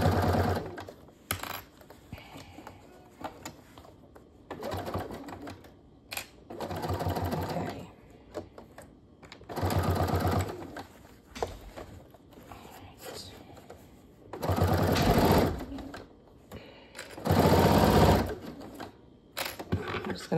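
Several bursts of sewing-machine stitching, each a few seconds long, separated by pauses and soft handling noises, with quick short runs where the seam is backstitched at the start and end; a voice speaks faintly in the gaps.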